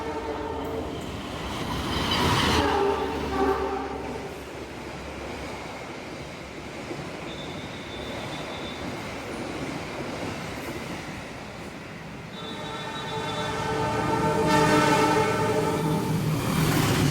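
Taksaka train rolling through Haurgelis station in Indonesia, a long steady rumble of wheels and carriages with brief horn-like tones near the start and again toward the end, heard from close by the track.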